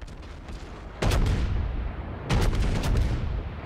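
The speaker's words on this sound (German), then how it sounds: "in dem Augenblick Königsberg schießt auch drauf" Heavy warship guns boom twice in a naval battle in World of Warships, each salvo a loud, deep blast that lingers in a rumbling tail.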